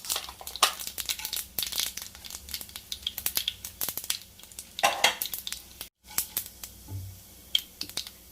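Mustard seeds, cumin, chana dal and urad dal sputter and crackle in hot oil for an aloo mirchi bajji tempering, with scattered close pops and crinkly sizzling bursts over a steady low hiss.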